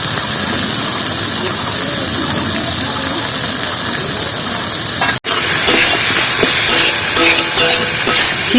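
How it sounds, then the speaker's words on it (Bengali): Boiled potatoes and spices, with a little papaya, fry in a pan with a loud, steady sizzling hiss. The sizzle breaks off for a moment partway through, then comes back louder and busier. "আলু আর মশলাটা ভালো করে কষিয়ে নেব"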